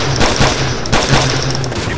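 Heavy gunfire from the video game Call of Duty 4: Modern Warfare, with rapid loud bursts that run continuously through the whole stretch and no talk over them.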